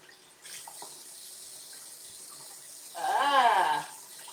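A tap runs into a sink while raw chicken is washed, the water gushing louder for a brief stretch near the end over a quiet room background.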